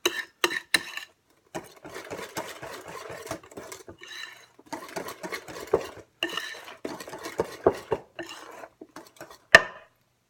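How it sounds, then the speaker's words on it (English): A whisk clinks and scrapes rhythmically against a bowl while vanilla is beaten into ricotta pie filling, close-up bursts of stirring with brief pauses between strokes, no speech. "So I'm just going to whisk the vanilla in"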